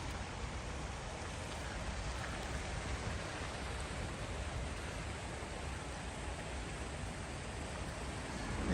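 Steady rain falls during a walk through Kawasaki on a miserable morning, a constant soft hiss of drops on surfaces that stays even and fairly faint throughout with no talking.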